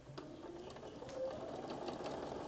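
A sewing machine stitches fabric between rows of a quilt, a quiet, fast mechanical whirring and ticking running steadily for a couple of seconds.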